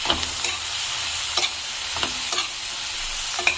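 Garlic cloves and chopped tomatoes sauté in a pan for a tomato chutney with a pinch of asafoetida, giving a steady bright sizzle broken by several sharp scrapes and clinks of stirring, close and alone with no talk.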